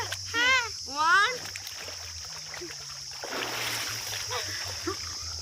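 Water splashes in a village pond as people dunk and bathe, with a couple of louder splashes early on amid steady outdoor ambience and voices talking nearby.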